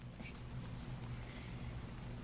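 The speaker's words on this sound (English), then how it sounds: "I put rain sounds in the background" Recorded rain sounds play softly in the background of an ASMR session, a steady low hiss of rainfall with no talking.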